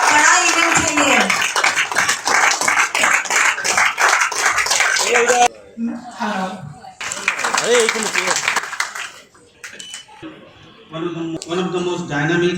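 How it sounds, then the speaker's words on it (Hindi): An audience claps loudly at an Alliance Clubs International board installation event, a thick burst of applause at the start and a second burst midway, with voices speaking over and between the clapping. "तालियां हो जाए"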